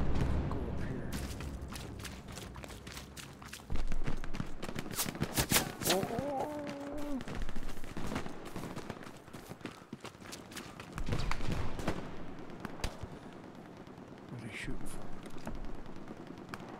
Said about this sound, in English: Boy, lots of shooting.